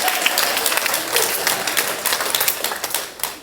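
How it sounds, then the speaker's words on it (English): Audience applause at a USO show, a dense wash of clapping from a crowd that holds steady for a few seconds, fairly loud and close, with no voices over it. "Even Abigail clapped at that."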